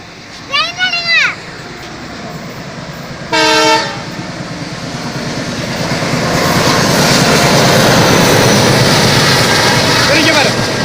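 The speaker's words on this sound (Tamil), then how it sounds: "ட்ரெயின் வருங்க." A train sounds two horn blasts and then approaches and passes, its rumble swelling into a loud, steady roar close by.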